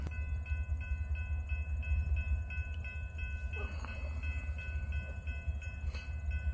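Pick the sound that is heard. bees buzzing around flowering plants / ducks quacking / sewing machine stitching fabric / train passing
train passing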